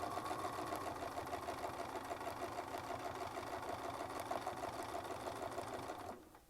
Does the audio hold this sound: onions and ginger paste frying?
no